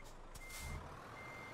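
Reversing alarm of a truck backing up in Euro Truck Simulator 2: a faint, steady electronic beep repeats under a low engine idle.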